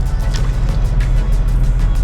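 Boat engines drone loudly and steadily at sea on a passage from the U.S. toward Guatemala as the throttles go up, a deep low rumble with wind and water splashing over it.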